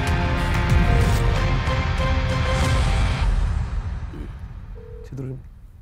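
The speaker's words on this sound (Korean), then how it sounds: "직접 전화 연결을 해보도록 하겠습니다" A telephone dials and rings out to place a live call during a Korean television talk show, with a few brief tones near the end following a stretch of studio chatter and background noise.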